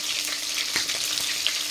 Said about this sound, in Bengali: এখানে তেলের উপরে কালো জিরা ফোড়ন দিয়ে গাঁঠি কচুগুলোকে একটু ভালো করে ভেজে নেব